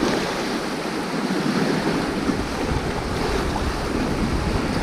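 Incoming tide waves washing over a rocky shore during light rock fishing, a continuous loud broadband surf wash with gusty wind buffeting the microphone throughout, no voices.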